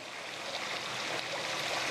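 Water pouring steadily through a Bakki shower filter on a koi pond, a continuous close rushing, splashing wash that stays even and fairly loud throughout with no voices.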